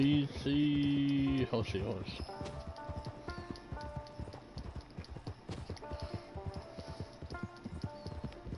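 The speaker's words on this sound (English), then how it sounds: "Horse." Steady rhythmic video game horse hoofbeats clip-clop at a brisk gait, with soft background tones and faint voices underneath.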